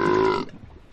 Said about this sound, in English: The whale is eating things that make him burp.